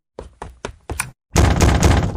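Four sets of knocks on a door in a Hindi-dubbed Doraemon cartoon, each a quick cluster of raps with short pauses between, followed by a louder, sustained banging or crashing burst at the end.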